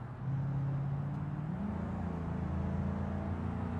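Car accelerating in the BeamNG driving game, a steady, loud engine drone that climbs in pitch as it revs up and holds strong throughout, with no talk.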